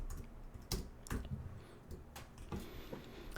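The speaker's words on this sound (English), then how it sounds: "that was quite a bit of typing" Computer keyboard typing in short bursts of clicks and clacks, with irregular louder keystrokes over a low background hum and no speech, while coding a sprite animation in PyGame.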